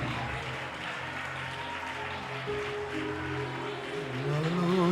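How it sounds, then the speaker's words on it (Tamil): A church congregation claps during a Sunday-style worship gathering, a dense continuous wash of many hands with singing or voices blending in underneath. "எல்லாரும் நல்ல கைத்தட்டி"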